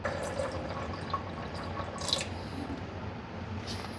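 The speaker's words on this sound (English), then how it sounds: "I'm gonna go ahead and put the water in." Water is poured into a plant milk maker machine, making a continuous close, soft splashing and trickling for a few seconds with no talk.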